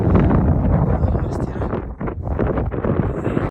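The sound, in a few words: strong wind blowing at a campsite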